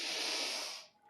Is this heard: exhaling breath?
yes